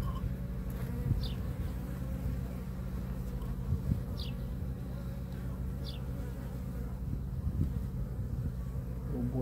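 Honeybees buzz steadily at an open beehive during a hive inspection, a dense, continuous drone close to the microphone with a few brief louder passes of individual bees.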